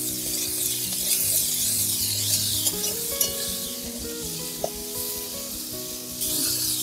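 Cabbage pakoras frying lightly in a pan with capsicum and tomato, a continuous close sizzle and hiss with scraping stirring strokes throughout, one brief clink midway.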